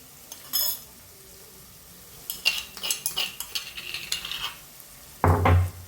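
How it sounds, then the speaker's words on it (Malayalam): A spoon stirs spices and dried red chillies in a pan, giving close scraping and metallic clinks in quick uneven strokes with a faint sizzle underneath, then a louder clatter at the end. "പിന്നെ ഇതൊക്കെ ഒന്ന് ഇളക്കി കൊടുക്കാം നല്ല ഒന്ന് മൂത്ത് വരട്ടെ"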